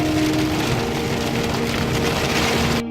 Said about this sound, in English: it just started pouring on us